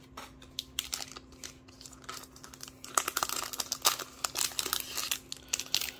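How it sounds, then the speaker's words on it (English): Foil Dragon Ball Super booster packs are crinkled and torn open close up, with soft rustling at first, then louder, sharper crackling bursts in quick succession. "I am really enjoying opening these Dragon Ball Super packs."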